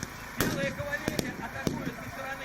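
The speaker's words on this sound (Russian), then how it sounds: "Тишину на горе Соколка нарушают пулеметные очереди, взрывы и шум." Machine-gun bursts and explosions ring out at a reenactment of a 1918 Civil War battle on Sokolka mountain, with sharp loud cracks at irregular intervals over a busy noisy background and some speech.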